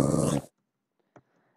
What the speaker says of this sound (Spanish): perro gruñe porque están súper cerca